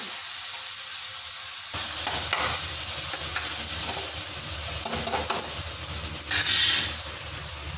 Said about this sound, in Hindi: हुण बस सब्जियां दो मिनट तक मैं इन्हां नूं टमाटर नूं पका लूँगी